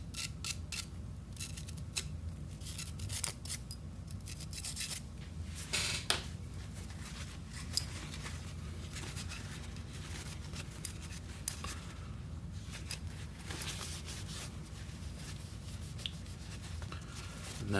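A nylon brush scrubs the corners of a 2011-style pistol during cleaning, making faint, quiet, irregular scratchy strokes with occasional sharper ticks.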